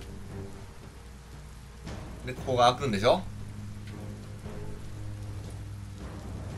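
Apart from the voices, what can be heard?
rain in the video game Biomutant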